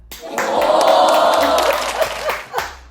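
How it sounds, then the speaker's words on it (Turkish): A burst of crowd noise with scattered clapping and cheering swells for a couple of seconds, then fades with a few voices. "Mona Edwards için bir alkış gelsin mi?"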